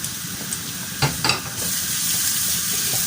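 Garlic sizzles in hot oil in a pan for a pork and bell pepper stir fry, a steady close frying hiss with a couple of brief stirring scrapes and no talking.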